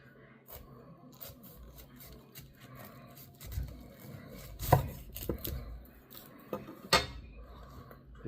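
A knife cuts the crown off a homegrown pineapple on a board, a few firm chops and crunchy slices with scraping, close by and rising toward the end.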